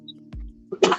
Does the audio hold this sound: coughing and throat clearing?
yes